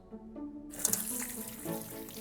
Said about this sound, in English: Rinse them under cold water and off comes the skin.